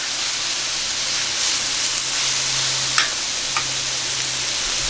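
Lean ground beef sizzles steadily on a Skottle cooktop, a continuous close hiss with a couple of faint ticks and no talking.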